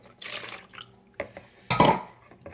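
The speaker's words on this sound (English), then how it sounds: "I'm going to add in 1 cup of milk." Milk is poured into chocolate cake batter in a home kitchen, producing short liquid splashes and a couple of small knocks, with a louder wet burst near the end.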